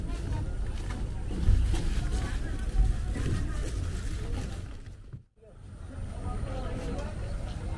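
A Mahakam river taxi boat at the Tenggarong pier, a steady low engine rumble and wind noise at the waterside, fairly close, with a brief dip near the end and people talking in the background.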